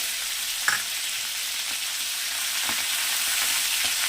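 Ginger-garlic paste sizzles and fries steadily in a pan during dal preparation, a constant bright hiss with a few soft stirring clicks and scrapes, close and alone with no talking.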